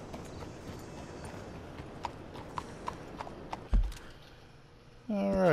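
Hooves clip-clop at a steady walking pace over a background of low ambient noise, followed by a brief thud and a rising whinny-like sound near the end, from a horse in the video game Red Dead Redemption 2.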